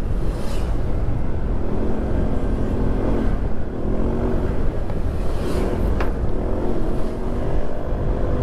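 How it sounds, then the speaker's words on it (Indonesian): A truck passes close on a winding hilly road at night, a loud steady engine roar and tyre rumble that fills the whole stretch, with engine pitch shifting as it goes by. "Tuh kan sampai truk juga lewat sini."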